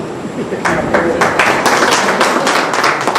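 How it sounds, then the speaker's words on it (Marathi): An audience at a seminar session breaks into clapping, a run of sharp, even claps that swells into applause, with a voice talking over it. "तुमच्या सगळेजण टाळ्या वाजले"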